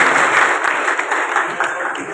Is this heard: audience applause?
yes